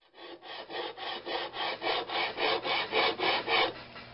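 Rhythmic rasping strokes of a Briggs & Stratton primer plate being sanded on 80-grit paper laid over a heavy quarter-inch flat steel plate, about a dozen even back-and-forth passes, close and steady with no talking.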